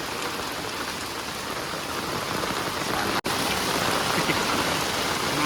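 Heavy monsoon rain pours down in the Konkan region during flooding, a dense, steady roar of rainfall close by with a brief dropout partway through.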